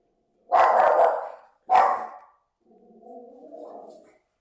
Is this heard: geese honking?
no